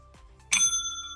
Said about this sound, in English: That's kind of the Hotel Bell right there.